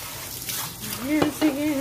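Water runs and splashes over raw beef being rinsed of blood at a kitchen sink, a steady wet wash with voices talking over it.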